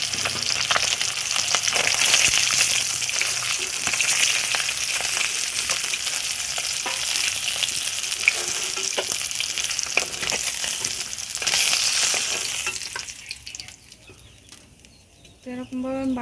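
Fish frying in hot oil in a home kitchen, a loud continuous sizzle with crackles and occasional stirring scrapes that quiets and thins near the end.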